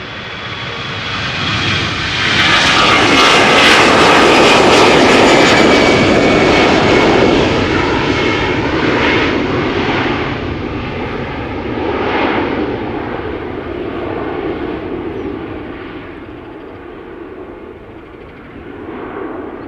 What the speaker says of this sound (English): Air France A321 going to Paris. Flight 1341.